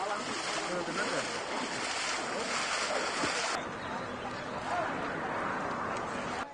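Floodwater from a swollen river rushes past an ancient Roman bridge in central Spain, a loud, continuous roar with wind buffeting the microphone and a sudden shift in tone partway through.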